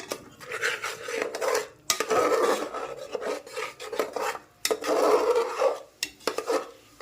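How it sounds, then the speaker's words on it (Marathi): A spoon stirs and sautés ginger, garlic and green chili paste in a pan, giving repeated scraping and rasping strokes in uneven bursts with short pauses between, close and clear with no talking. "तर बघा छानपैकी अशी पेस्ट आपण परतून घेऊयात सुरुवातीला"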